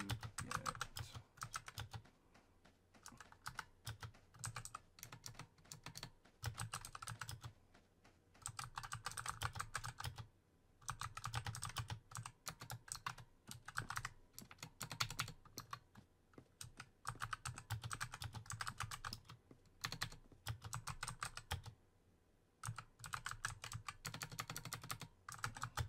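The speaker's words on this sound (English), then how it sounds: "Sorry for the typing, guys." Rapid typing on a computer keyboard, close clattering keystrokes in bursts separated by short pauses, quiet overall and alone without talk.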